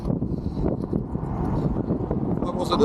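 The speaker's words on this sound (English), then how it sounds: "The wind is a sucker." Strong wind buffeting on the UK coastline, a steady low roar and microphone rumble throughout, with a voice speaking over it.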